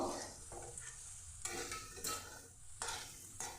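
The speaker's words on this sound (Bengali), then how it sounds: "এভাবে নেড়ে নেড়ে লাল করে ভেজে নেবো" Potatoes stirred and frying in a pan over a medium gas flame until browned, steady sizzle broken by several sharp scraping stirs at intervals, close and alone with no talk.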